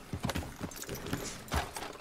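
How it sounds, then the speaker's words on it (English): Horses in the video game Red Dead Redemption 2 trot with soft, uneven hoof clops, faint and close, with no clear whinny. "I thought you were letting the horses loose."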